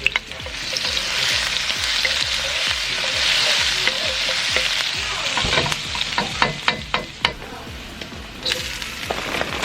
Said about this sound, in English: I'm slowly adding more and more vegetables to the wok